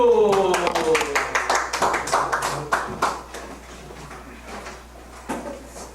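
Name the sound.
audience clapping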